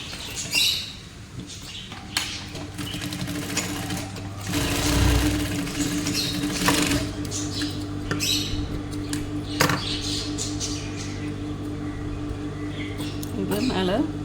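A sewing machine stitches scrap fabric pieces together into a pillow, running in short close whirring bursts with pauses between, while a person talks over the work.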